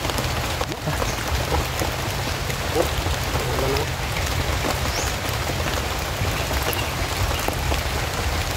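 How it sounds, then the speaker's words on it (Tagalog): Steady rain falls outdoors in a constant, even hiss of drops on surfaces, continuous and moderately loud throughout with no talk. "Ulan na ba?"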